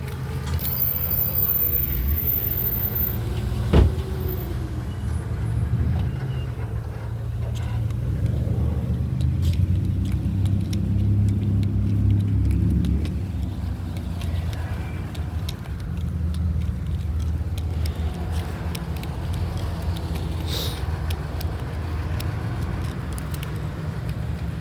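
A car engine idles steadily with a low, continuous rumble for the whole stretch, close and fairly loud, with no voices over it.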